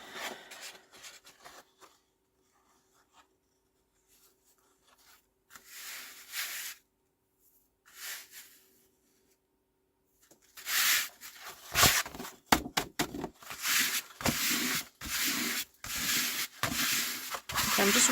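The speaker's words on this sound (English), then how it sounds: "I'm just rubbing off to see if there's any excess coming off." A stamped craft piece rubbed by hand to lift excess: faint intermittent rubbing at first, then louder, sustained brisk scrubbing strokes close up, no talk.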